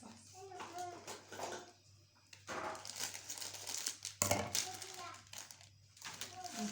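A plastic Indomie noodle packet crinkles and rustles as it is handled and cut with scissors, in close, irregular bursts, with people talking quietly at the same time.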